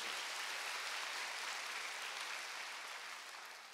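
Church congregation at a Wednesday worship service applauding together, a dense steady wash of many hands clapping at once that fades slightly toward the end, with no voices over it.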